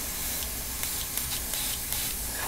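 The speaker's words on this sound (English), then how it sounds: "just give it a spray where, you know, kind of create a pathway" A spray paint can sprays medium brown paint onto MDF tabletop terrain in short, close hissing bursts with brief gaps between them.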